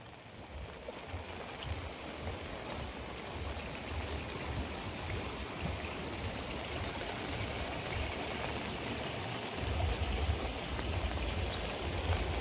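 A small stream of floodwater running out of a village during the Girna river flood after a dam burst, a steady, continuous rushing and trickling flow at moderate distance with no talking.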